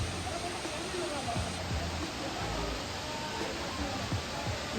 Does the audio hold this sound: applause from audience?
no